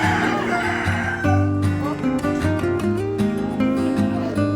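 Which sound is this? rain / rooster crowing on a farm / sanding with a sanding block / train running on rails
rooster crowing on a farm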